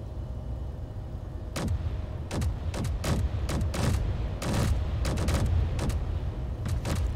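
Artillery cannon turrets firing in the Space Engineers video game, a rapid irregular series of sharp booming shots, some in quick clusters, over a rumbling background.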